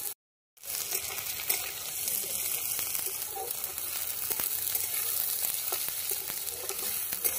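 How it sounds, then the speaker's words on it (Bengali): Chopped onion frying in hot mustard oil for an egg and tomato dish, giving a dense, steady sizzle that starts right after a brief silence and stays loud and close throughout. "তেলটা গরম হয়ে গেছে, তেলে পেঁয়াজ কুচিটা দিয়ে দেবো।"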